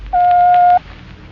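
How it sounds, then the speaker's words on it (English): A telephone time signal from a 1937 radio drama, heard as one steady pure beep lasting under a second over a faint background hiss, with no voice during the tone. "When you hear the signal, the time will be"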